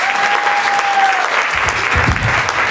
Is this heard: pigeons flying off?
no